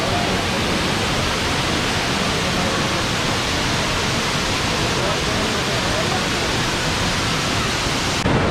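Abbey Falls waterfall heard from a viewing platform at the top, a dense, steady roar of rushing water that fills the whole stretch evenly, close and loud.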